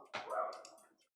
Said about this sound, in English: Just these yappy dogs around here.